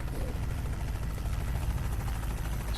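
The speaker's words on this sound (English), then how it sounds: "What's that, helicopter? Buzzing around above us." A helicopter in the Euro Truck Simulator 2 video game buzzes overhead as a steady, dense droning hum that blends with road and engine noise and stays constant throughout.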